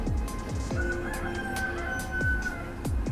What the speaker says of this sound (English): The old cockerel.